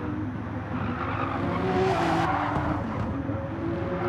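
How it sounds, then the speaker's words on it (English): Race car from a championship race, with a brief tire screech on the mediums around the middle of a steady engine roar and road noise. "A little bit of a tire screech there."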